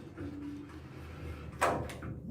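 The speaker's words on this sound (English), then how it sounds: "So it's a sliding door." A heavy glass sliding bathroom door in an accessible hotel room rumbles faintly along its track and then knocks sharply shut near the end, close by in a quiet room.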